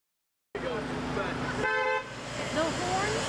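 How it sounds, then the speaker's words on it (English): Car horns honk amid outdoor traffic noise in Henryville after a tornado, beginning suddenly, one clear sustained honk standing out, with people talking over the scene. "You getting a lot of honks?"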